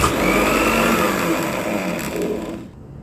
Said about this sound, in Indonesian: Kalau dia masih agak kasar, masih terasa, ini boleh kita blender lagi.